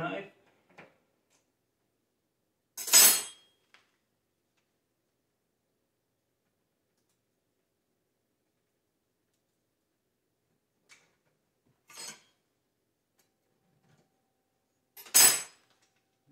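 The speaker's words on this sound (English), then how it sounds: "I'm going to use me a little butter knife just to cut it off the end" A butter knife cuts deer jerky off the end of a Cabela's jerky gun, producing a few sharp, isolated metallic clicks and taps separated by long quiet gaps.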